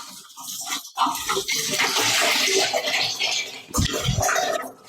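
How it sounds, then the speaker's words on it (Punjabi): Cold water gushing from a shower, a loud continuous splashing hiss that breaks off briefly near the start, with a few thumps and knocks toward the end. "ਯਾਰ ਬਰਫ਼ ਦਾ ਪਾਣੀ ਆ ਰਿਹਾ"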